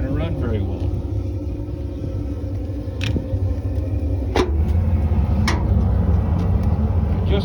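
A HeatMaster G Series wood boiler gasses with its bypass closed, giving a low steady rumbling roar close by, while someone talks over it and a few sharp clicks cut through.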